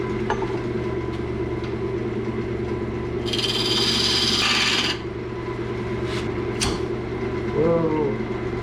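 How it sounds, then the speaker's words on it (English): Wood turning on a lathe with a spindle gouge and parting tool, a steady motor hum under a burst of scraping cutting of about a second and a half, then a few sharp clicks. "I'm working that down with my spindle gouge, and I make room with the parting tool here."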